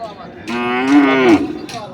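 A single loud, close cow moo rises and falls over about a second at a cattle market, with faint background noise around it.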